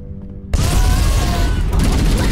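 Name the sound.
missile explosion in Halo Combat Evolved video game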